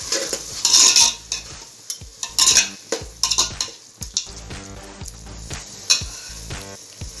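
Tomatoes sautéing in a pan for Ambur-style mutton dalcha, a soft sizzle under repeated scrapes and clinks of a metal spoon stirring against the pan, loud and close.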